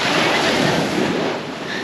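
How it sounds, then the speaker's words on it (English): Cold ocean surf surges up the shore along Australia's Great Ocean Road, a continuous close roar of breaking water with wind buffeting the microphone. "the waves come up and then they suck you back down"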